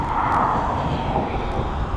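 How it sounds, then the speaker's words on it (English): An airliner's thrust reversers roar after landing at East Midlands Airport: a loud, steady broadband rush that holds evenly for about two seconds, with no voices over it. "There's the reversers."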